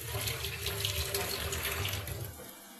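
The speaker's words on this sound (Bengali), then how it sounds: "জল নিয়ে আসি বাটিতে" Tap water pouring steadily into a bowl in a home kitchen, a close, continuous rushing splash that softens slightly toward the end.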